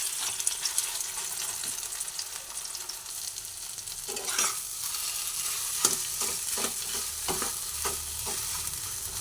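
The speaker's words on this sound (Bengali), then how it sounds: "তেলের মধ্যে দিয়ে অল্প করে নাড়াচাড়া করে নিচ্ছি" Taro kebabs fry in hot oil, a steady sizzling hiss broken by repeated clattering stirs and scrapes of a utensil against the pan in the second half.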